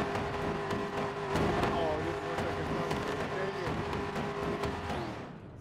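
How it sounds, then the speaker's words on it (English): Supercharged car engine roaring steadily in a racing video game, a sustained loud drone under game sounds with overlapping talk. "Even though the car sounds turboed for some reason"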